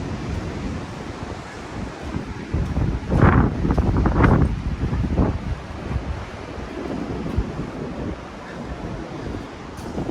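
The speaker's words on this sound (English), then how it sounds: "there's the wind" Heavy wind buffets the microphone in Santa Barbara with a loud, rumbling roar, swelling into strong gusts near the middle before settling back to a steady blustery noise.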